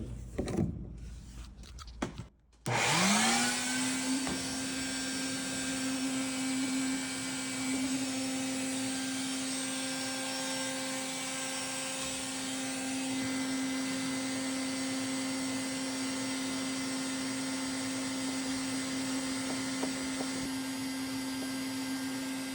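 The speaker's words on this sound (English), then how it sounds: "So what I'm going to do is suck while I brush." A vacuum cleaner starts after a few clicks and runs at a steady, loud, continuous whine while it sucks up dust as a brush cleans the coils of an underperforming refrigerator.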